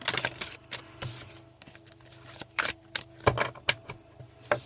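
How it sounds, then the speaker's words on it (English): A deck of tarot cards being shuffled, giving a run of crisp riffling and tapping bursts at close range, uneven in rhythm with short pauses between, and no talking. "Let me shuffle up these cards a little bit before we move on."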